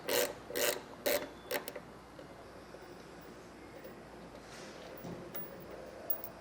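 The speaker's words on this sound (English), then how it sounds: "You can then loosen the nutsert device by just turning that bolt all the way" A bolt is turned on a nutsert installation tool to loosen it, giving several sharp metallic clicks and ratcheting ticks early on, then a quieter mechanical rasp continuing nearby.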